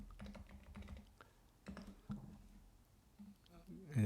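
Typing on a computer keyboard while saving a Photoshop PDF, rapid soft clicks in short bursts with brief pauses, close and fairly quiet, with a voice speaking briefly.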